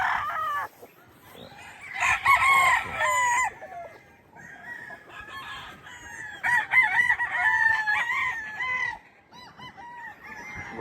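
Roosters on a farm keeping quality gamefowl crow repeatedly, long rising calls overlapping from several birds near and farther off, with clucking in between.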